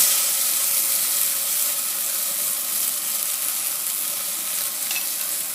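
Steady sizzling and hissing of onion frying in a pan, continuous and close, with faint stirring and no voices.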